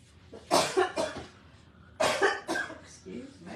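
A woman coughs in two separate bursts, each made of several harsh, close coughs with quiet pauses between them. A short softer cough follows at the end.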